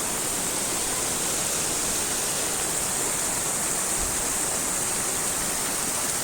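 Yedi Göz waterfall on the Aladağ plateau in Adana, a dense, constant roar of falling water, loud and unbroken from start to finish.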